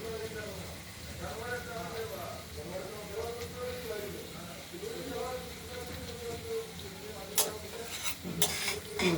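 Flat beans frying in oil in a wok, with steady sizzling broken by rhythmic scraping and stirring and a few sharp utensil clanks near the end; a voice talks over it.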